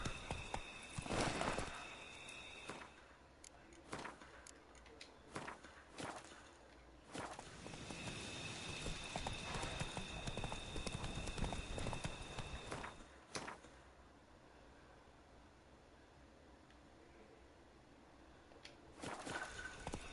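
Roach, the horse in The Witcher 3, runs with quick rhythmic hoofbeats that clop up close, alongside short whooshes and faint game tones.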